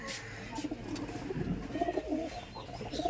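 Rajshahi Giribaz pigeons cooing nearby, several soft throaty coos repeating in a loose rhythm over a low background hum, with no talk.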